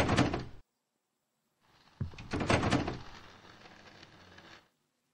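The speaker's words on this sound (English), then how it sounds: "why can't I open the door?" A door in a video game is tried and fails to open: a short thud and rattle, a pause, then a louder clunking, shaking sequence that fades out, heard close with no talking.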